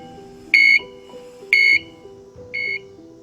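A medical heart monitor alarm repeats high beeps at a steady one-per-second pace, three times, over a lower pulsing tone pattern.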